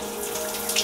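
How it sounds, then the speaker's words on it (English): Cold water runs steadily from a shower in a brief, continuous broadband hiss and splash with no voices. "Showering with cold water."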